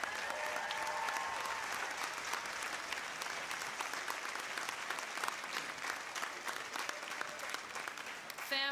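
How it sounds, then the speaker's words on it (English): A graduation ceremony audience claps in a loud, sustained round of applause, dense and even from start to finish with a brief surge near the end. "Graduates, please join me in thanking your families with a loud round of applause."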